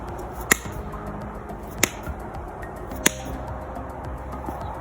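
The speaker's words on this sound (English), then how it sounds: "it's called a clap push-up" Three sharp hand claps land at roughly even intervals during clap push-ups, crisp and close, standing out over a steady background hiss with no talking.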